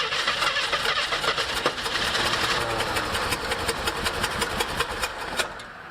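Engine of a revived abandoned Jeep CJ7 with a throttle position problem, held at a high, busy, rattling rev with a rapid ticking pulse, loud and close, easing slightly near the end.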